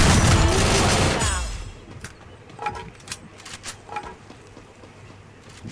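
A dense burst of rapid video game gunfire fills the first second and a half, then gives way to quieter scattered clicks and small impacts.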